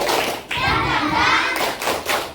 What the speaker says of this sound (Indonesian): Tepuk tangan buat kita semuanya dong.